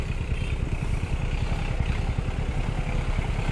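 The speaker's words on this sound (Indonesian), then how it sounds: "Nah, ini ada traktor." A tractor engine rumbles steadily on a village road in a remote settlement, a continuous low mechanical drone with clattering texture, fairly close and unbroken throughout.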